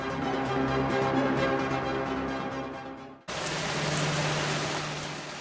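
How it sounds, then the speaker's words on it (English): Rain falls in the Amazon rainforest: a steady, dense hiss of downpour, mixed with sustained musical tones at first, then alone and slightly harsher after an abrupt cut. "During the months of November to March, daily rains become increasingly intense and frequent."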